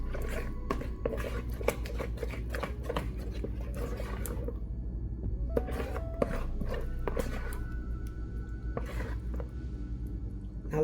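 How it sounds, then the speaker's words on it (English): Biscuit ingredients stirred with whipping cream in a bowl make repeated close clicks and scrapes of a utensil against the bowl in an uneven rhythm over a low steady hum. "I'm gonna add in just a little bit of whipping cream. And get those all stirred up"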